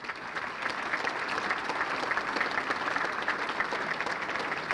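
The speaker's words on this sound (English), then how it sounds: "One more round of applause for all the past inductees and all members of the committee." A banquet audience at a sports Hall of Fame enshrinement dinner gives a steady, even round of applause that holds at a constant level from start to finish, with no voices standing out.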